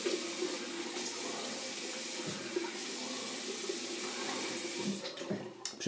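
Cold water runs steadily from a tap into a sink while someone rinses their face after a cream shave, a continuous close splashing hiss with a few brief bursts near the end.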